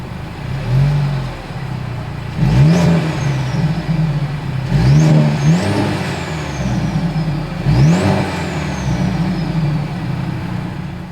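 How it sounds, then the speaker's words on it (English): A 2022 Mercedes-Benz C 300 sounds off through its exhaust in three sharp revs spaced a few seconds apart, each a quick rising snarl that falls back to a steady idle, close and loud with no talking. "As always, here is that exhaust clip."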